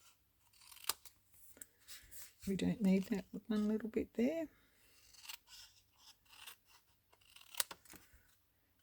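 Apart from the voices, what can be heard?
scissors cutting paper for 3D ornament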